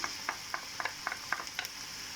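Garlic stirred into a pan for mixed-sauce macaroni: a quiet sizzle under a run of about eight light, evenly spaced scraping taps of the spoon.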